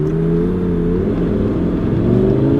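Lamborghini accelerating on a joyride, a loud, close, continuous engine roar that climbs steadily in pitch as it speeds up.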